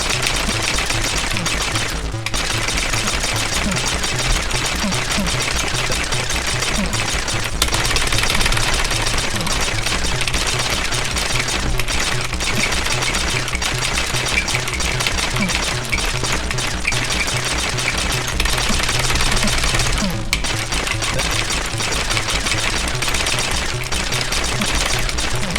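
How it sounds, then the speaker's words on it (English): Rapid-fire shooting in the Atari ST game Xenon rattles on without pause, a dense, steady stream of electronic shot sounds layered over a loud, buzzy game soundtrack. "I'm firing away like crazy"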